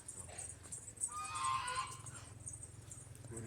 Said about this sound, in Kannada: ಇದು ಬಾತುಕೋಳಿ.